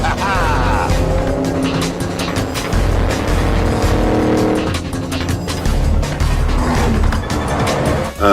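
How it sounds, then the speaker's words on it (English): A 600-horsepower Mustang races a train, its engine roaring loudly at close range with tires squealing and the car surging past, under excited voices and shouts. "Come on, Mustang, you are going to beat the train."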